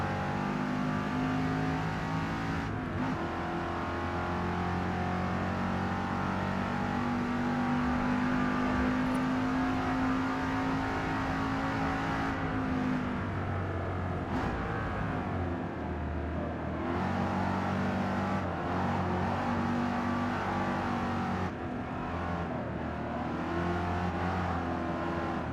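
A Porsche 928 engine in a racing video game, droning and revving continuously with pitch rising and falling through gear shifts, steady and loud the whole time.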